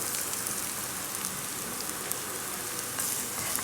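Garlic and ginger frying in hot oil in a pan, a loud, steady, close sizzle like heavy rain that holds without pause, with no voices over it.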